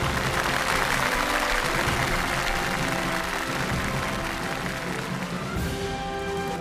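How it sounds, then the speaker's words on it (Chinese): A large audience at the World Final of the Miss Model of the World 2015 pageant applauds to welcome the previous year's international champion, a loud, sustained roar of clapping that continues unbroken and eases slightly near the end. "首先让我们掌声有请上一届的国际总冠军"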